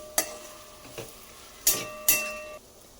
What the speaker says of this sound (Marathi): तेंडली सुद्धा आपण मसाल्यामध्ये अशी छान परतून घेऊया